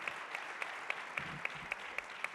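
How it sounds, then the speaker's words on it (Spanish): Faint, sparse applause from a panel-discussion audience on innovation, with a few distinct claps at a regular pace over a soft wash of room noise. "Un aplauso para nuestros panelistas"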